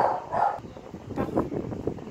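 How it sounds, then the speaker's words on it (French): A pet dog barks indoors in a couple of short, muffled bursts at moderate distance, part of a home podcast recording, with no talking over it. "mon chien qui aboie"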